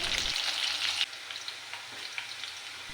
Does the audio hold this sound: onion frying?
yes